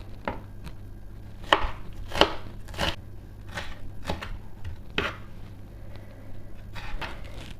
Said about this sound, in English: then I turn it around and cut it in smaller pieces